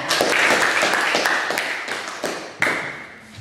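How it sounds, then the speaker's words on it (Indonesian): Students in a classroom applaud a student group, a quick flurry of close, sharp hand claps that thins into a few separate slaps and sharp taps, with a voice heard underneath. "Tepuk tangan untuk kelompok 3."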